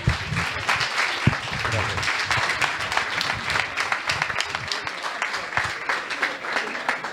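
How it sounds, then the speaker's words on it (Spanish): An audience breaks into sustained applause to welcome a speaker at a talk on animal rights and legal tools for their defense, steady clapping filling the room with a voice briefly over it. "Lo recibimos con un fuerte aplauso."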